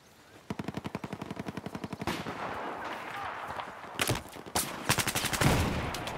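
Rapid automatic gunfire rattles in Battlefield 4 during a Team Deathmatch round on Operation Mortar: a fast even burst of shots, then heavier scattered bursts and blasts, loud and close.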